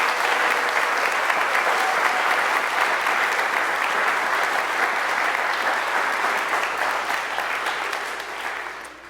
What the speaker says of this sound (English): let's have a big round of applause for all the ringers